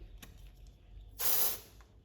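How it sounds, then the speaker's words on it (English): A Rexona aerosol antiperspirant can lets out one strong, steady hiss of spray lasting about a third of a second, close and loud, after a quiet start with a small click. "Rexona presents its greatest protection antiperspirant, now 3 times more durable in aerosol form"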